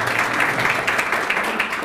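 Audience applause at a public event in India, a steady wash of many hands clapping together, fairly loud and continuous for the whole stretch with no voices over it.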